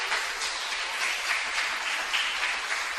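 A church congregation applauds during a sermon, a dense, steady wash of many hands clapping together that holds at an even level throughout.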